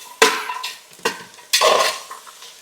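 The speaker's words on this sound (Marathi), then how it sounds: "सगळ्या ब्या आपण परतून घेऊया चांगल्या" Jackfruit seeds are stir-fried with salt in a pan, heard as three sharp metallic scrapes and clatters of a spatula against the pan, each followed by a short rattling sizzle, with no voices.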